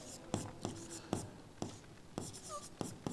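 Marker or chalk strokes on a classroom board during a maths lesson, a series of sharp taps and short scratches spaced irregularly, close and moderately loud, with no talking over them.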